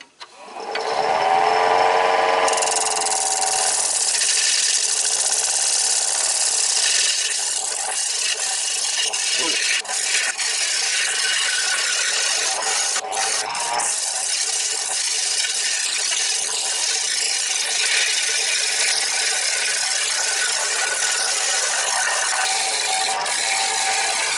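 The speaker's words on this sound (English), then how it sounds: "Get my square carbide, and we're gonna cut in a tenon" Wood lathe turning a serving platter, a square carbide tool cutting a tenon into the spinning wood: a loud, continuous scraping whir that holds steady for the whole stretch, close to the microphone and with no talking.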